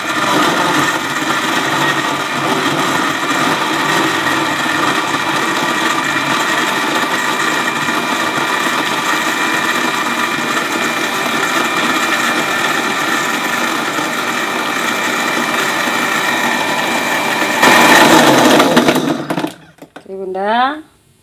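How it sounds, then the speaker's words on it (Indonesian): An electric blender whirs continuously while blending dragon fruit juice with ice cubes, a loud steady motor drone that surges briefly near the end before cutting off and winding down. "kita blender bunda"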